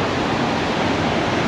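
A waterfall, heard up close, makes a steady, loud, unbroken rushing roar with no voices over it.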